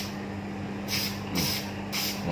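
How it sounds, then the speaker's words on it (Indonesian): A spray paint can hisses onto green leaves of a miniature palm tree in three short bursts close to the mic, with a low hum beneath. "Cat semprot kita bisa gunakan merek apapun, kita semprotkan di sini."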